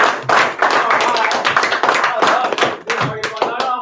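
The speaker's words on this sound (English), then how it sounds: "Clap for our players, please." A classroom group claps in a dense burst of hand claps that runs for the whole few seconds, loud and close, with voices and chatter mixed in.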